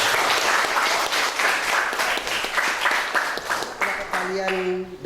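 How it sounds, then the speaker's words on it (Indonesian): A classroom audience applauds after a student debate practice, with steady, fairly loud clapping from many hands that thins out near the end as a tone or voice rises over it. "beri tepuk tangan buat kita semua"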